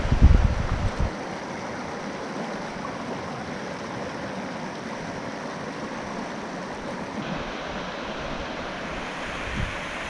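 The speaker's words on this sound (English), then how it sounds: "There is some ice in the river, but is still flowing strong." The Big Thompson River, partly iced over, flowing strongly with a steady close rushing roar and a brief bump of handling or wind noise at the start.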